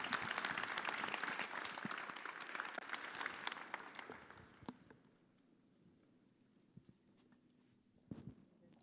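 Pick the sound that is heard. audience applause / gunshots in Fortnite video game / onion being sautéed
audience applause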